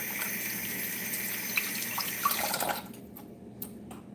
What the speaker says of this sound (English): I'm going to have to wet my hands on this.